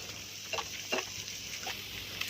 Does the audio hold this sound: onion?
yes